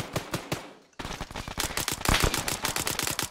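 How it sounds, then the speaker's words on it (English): Rapid automatic gunfire in the Arma 3 military shooter, loud bursts of close shots in quick rhythm, a brief gap, then a denser sustained stream of cracking rounds. "We got shots left down the road."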